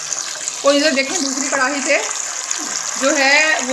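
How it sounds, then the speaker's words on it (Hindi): Fish pieces fry in a kadai of hot oil, giving a steady hissing sizzle that runs underneath a person talking throughout. "जो पीस हैं फिश के वो हम कर रहे हैं फ्राई"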